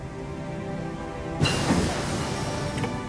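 Rain weather ambience in the Hearts of Iron IV strategy game, a steady hissing wash under a music bed that thickens partway through, moderately loud.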